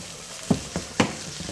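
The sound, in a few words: meat added to a pan and sizzling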